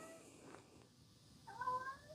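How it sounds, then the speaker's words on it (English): An old male house cat meows to be let outside: a faint, drawn-out meow in a quiet room, preceded by low indistinct sounds. "He is telling me he wants outside for some reason."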